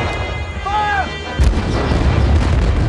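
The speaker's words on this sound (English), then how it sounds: "For 3 weeks, the British cannon pounded." Heavy cannon fire in a staged bombardment, a deep boom landing partway through, followed by rumbling echoes, with a faint high tone sounding before it.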